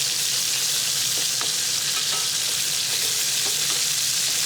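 Duck breast pan-roasting skin-side in a hot pan gives off a steady, close, dense sizzle and hiss, with a few faint pops and crackles scattered through it. No one speaks.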